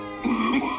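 A single short, rough cough or throat-clear from a sick person who says there is water in their lungs, close and fairly loud, alone without speech.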